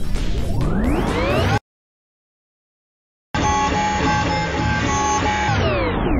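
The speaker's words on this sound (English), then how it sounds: "is this the biggest 3D printer we could get?" A large 3D printer whirs with loud rising and steady motor tones, sweeping up in pitch, stopping dead for nearly two seconds of silence, then running again with a steady buzzing drone that falls away at the end.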